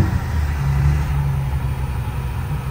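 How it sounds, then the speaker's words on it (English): A 1946 Delahaye 135M Coach by Guilloré runs with a steady, loud low engine rumble, idling evenly throughout with no break or change in pace. "Car starts right up. Engine does sound very healthy."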